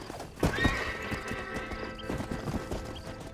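A horse in the video game Red Dead Redemption whinnies in a drawn-out neigh over soft clopping hooves, fairly faint and close.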